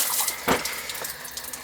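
Water runs from a repaired outdoor shower, a steady broadband splashing spray with a brief louder surge midway, close and continuous with no voices.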